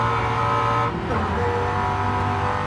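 A Porsche race car in Gran Turismo 7 roaring past during an endurance race, loud sustained engine tone that shifts in pitch partway through, with a faint hint of tire noise.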